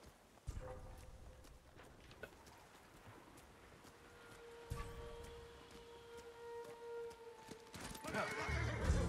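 A horse in the video game Ghost of Tsushima gives a long whinny over clip-clopping hooves, with the game's ambient sound continuing underneath.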